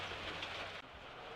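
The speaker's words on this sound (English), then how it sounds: "today it's absolutely pouring down with rain" Heavy rain pouring down outside an old Sky Master aircraft, a loud, steady wash of hiss and patter that fills the short stretch with no voices.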